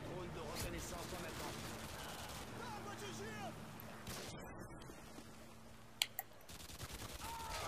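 Faint gunfire and battle noise from a Domination match in the video game Modern Warfare 2 play at low volume, with a couple of sharp, close shots near the end.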